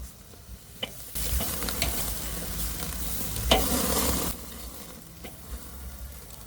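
Pork and vegetables fry in a hot pan while being stirred, a steady close sizzle that swells loudly for a few seconds with scraping stirs, then settles back to a quieter crackle.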